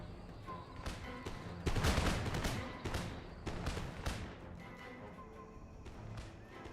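Musket volleys in Empire: Total War, irregular crackling bursts of massed gunfire at a distance, swelling into a dense fusillade before trailing off into scattered shots under faint battlefield noise.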